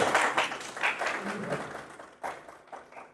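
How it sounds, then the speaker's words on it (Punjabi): Audience applause at a gathering: a dense patter of many hands clapping, strongest at first, fading, then swelling again briefly before tapering off. "ਤਾਲੀਆਂ"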